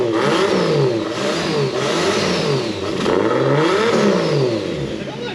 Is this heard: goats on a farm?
no